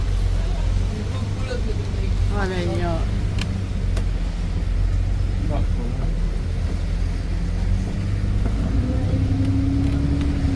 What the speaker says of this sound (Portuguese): Agora nós estamos passando na ponte com o ônibus